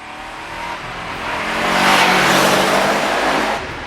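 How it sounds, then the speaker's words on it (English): First-generation Subaru Impreza WRX STI with a turbocharged engine accelerating, a broad rushing engine and road roar that swells to a peak midway and then eases off, heard from inside with no talk. "You just get this tiny little kick from the turbo."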